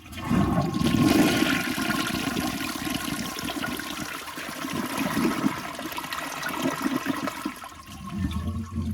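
A Jacuzzi Perfecta toilet flushes up close, a loud rushing swirl of water that holds steady for several seconds before tapering into a gurgling refill.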